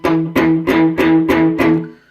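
An electric guitar plays the main riff with the unused strings muted by the fretting fingers, six crisp, evenly spaced chord stabs ringing briefly in a tight rhythm.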